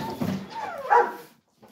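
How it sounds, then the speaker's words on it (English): Pet dogs nearby give a short whining bark that slides into a whimper, loud and close, followed by a brief quiet moment and a faint trailing sound. "Excuse my dogs."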